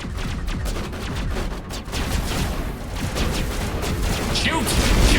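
Gunfire from the video game Mass Effect, dense bursts of shots crackling steadily through a firefight, with voices talking over the shooting.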